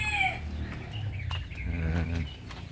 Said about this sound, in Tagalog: Ito naman ay mga inahing native